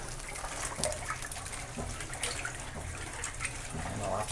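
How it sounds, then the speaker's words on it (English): Water drains back into the tub of a 1948 Kenmore wringer washer, a faint, steady trickle and splash heard close by. "puts the water flow into the proper position for draining back into the tub"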